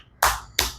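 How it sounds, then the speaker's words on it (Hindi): Two sharp hand claps about a third of a second apart, close and loud, made while patting the soles of the feet in a yoga exercise. "ताली बजा के ऐसे।"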